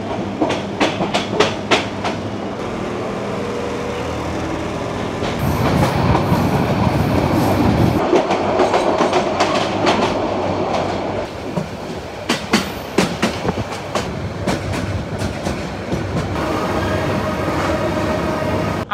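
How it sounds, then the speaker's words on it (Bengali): Parjatak Express passenger train pulling away from Airport station on the Dhaka to Cox's Bazar run, a steady rolling rumble with loud rhythmic clickety-clack of wheels over rail joints, surging louder midway, heard from on board with no talking. "এইমাত্র আমাদের ট্রেন এয়ারপোর্ট স্টেশন থেকে আবারও ছেড়ে দিল"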